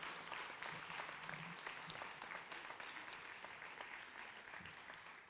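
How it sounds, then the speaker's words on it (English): Steady applause from an audience at a winter nursing pinning ceremony, many hands clapping densely and evenly, with a few louder claps standing out and a faint voice underneath. "That's worthy of a round of applause to these graduates and to this great institution."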